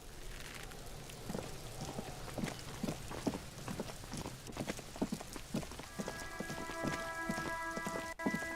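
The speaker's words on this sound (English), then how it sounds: "It's raining again." Steady rain from the video game Disco Elysium pours across a surface with dense pattering drops, constant and fairly close, with a low rumble underneath and tonal game music swelling near the end.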